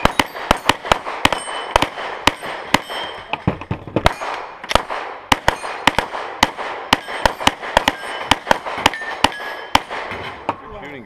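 Gunfire at an outdoor steel plate shoot, with rapid sharp reports each followed by metallic clangs as plates are hit, crowded and loud across the whole stretch.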